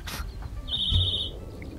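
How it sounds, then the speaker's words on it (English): Mobile phone ringtone chirping briefly, a short, bird-like electronic tone heard over background noise during a game session. "You guys say that every single time my phone goes off."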